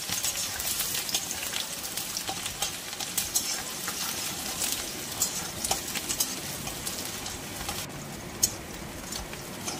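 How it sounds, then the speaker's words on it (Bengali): Sliced onions sizzle steadily in hot oil in a pan, with soft scraping stirs breaking through the continuous frying hiss; close and fairly loud, with no talking. "একটু নেড়ে এতে আমি দিয়ে দেব কোচানো পেঁয়াজ"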